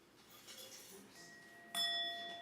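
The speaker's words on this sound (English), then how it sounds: "We've been asked to use a chime to let you know that the service is going to begin now." A chime rings out in a church to signal that the Sunday worship service is beginning, a single clear bell tone with long sustained ringing overtones after a soft buildup in a quiet room.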